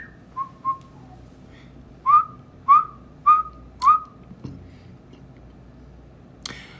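A person whistles a series of short, clear rising notes, two soft ones then four louder evenly spaced chirps, close and alone against a quiet room.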